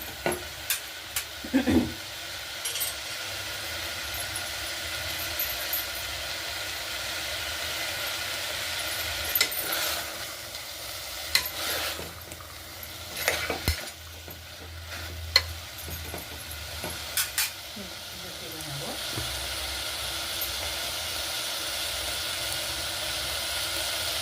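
Tomato bath mixture with fresh green peas sizzles steadily in a pan, broken by bursts of spoon scraping and stirring clatter, close and continuous with no talking.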